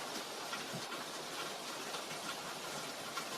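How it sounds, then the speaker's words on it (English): Rain hisses as a steady, even wash of noise with no breaks, fairly quiet and heard alone. "Oh, it's rain."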